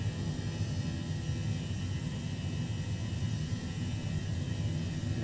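Turkish Airlines Airbus A321 engines at climb thrust in Microsoft Flight Simulator, a steady, dense roar with low rumble heard from the cabin, unchanging for several seconds with no voices.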